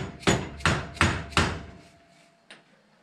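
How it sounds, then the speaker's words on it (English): Four firm, evenly spaced dead blow hammer taps seating a seal during a Toyota power steering pump rebuild, each a dull thud, then a pause and one lighter tap. "give it a bit of a tap from the top, again with a dead blow hammer"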